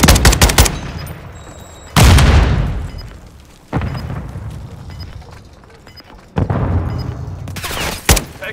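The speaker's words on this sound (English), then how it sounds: "Taking effective fire." Heavy gunfire in a military shooter video game, with several loud bursts of rapid shots and booming blasts separated by quieter stretches of echoing rumble.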